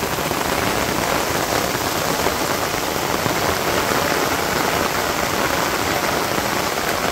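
Heavy rain pours down steadily over a Bangladeshi village, a dense, even hiss of drops drumming on surfaces with no voices, close and loud throughout.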